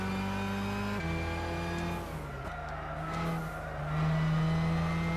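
A Nissan R35 race car at Silverstone in Gran Turismo 6 drones loudly and steadily, its engine pitch dropping through gear changes and then climbing again as it accelerates.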